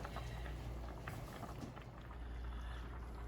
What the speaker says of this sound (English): the boiling broth will help spread it out